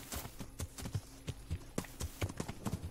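Horse hooves clip-clop in Kingdom Come: Deliverance, a steady walking rhythm of sharp close knocks, about three to four per second, with no talk over them.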